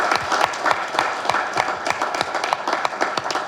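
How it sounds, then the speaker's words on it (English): A round of applause for book authors at a members' day event fills the room, a crowd clapping steadily and fairly close with no speech over it. "let's give one more round of applause to all our"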